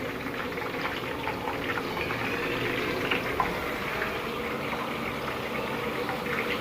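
Thin nylon sev, a fine gram-flour noodle, frying in a batch of hot oil, giving a steady, dense sizzle and bubbling hiss that holds even throughout with no talk.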